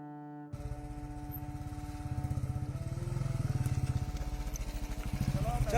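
A motorcycle engine chugs in a steady, close rhythm on a mountain road under construction in an Uttarakhand village, the throttle swelling louder toward the end.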